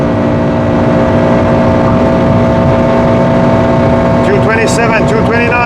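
A Honda Civic Type R FN2 runs at top speed on the autobahn, with steady loud engine drone and road and wind roar throughout, and a brief higher-pitched whine near the end.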